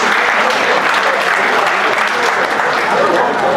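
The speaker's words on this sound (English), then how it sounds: "Please give a huge round of applause for these people also." Steady, dense applause from a large audience at a developer community closing keynote, sustained and fairly loud throughout with no pauses.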